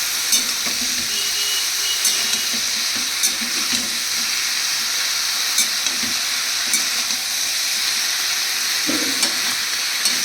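Chunks of bottle gourd with katla fish head stirred in a hot pan, a loud constant sizzle with scattered scraping and clinking of the spoon throughout.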